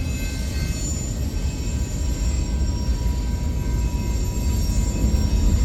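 A freight train running the Gibson to Council Bluffs route in Iowa and Nebraska rumbles past steadily and loudly at close range, a continuous low roll of railcars with faint high wheel squeal over it, and no talk.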